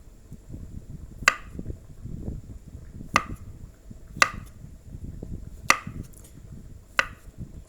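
A knife chopping boiled chicken on a cutting board, five sharp, separate chops spaced about a second apart over a low murmur of background noise.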